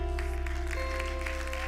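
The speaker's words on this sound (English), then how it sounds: "it doesn't sound like this golf clap they're giving you right now" An audience at a church worship gathering giving a soft, sparse golf clap, light patters of applause over a steady sustained keyboard pad, quiet and distant.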